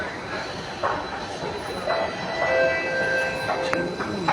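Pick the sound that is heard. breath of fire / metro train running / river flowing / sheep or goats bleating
metro train running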